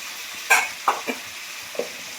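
Masala of cumin powder and ginger with chilli being stirred and sautéed in a pan for a Bengali fish curry, with a few brief scraping, sizzling stirs standing out over a quiet background.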